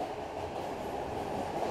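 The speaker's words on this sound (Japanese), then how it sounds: "4番線に特急成田エクスプレス53号成田空港行きが参ります" A Narita Express limited express train rolls in at the Sobu underground platform of Tokyo Station, a steady low rumble of wheels and car noise, moderately loud and unbroken.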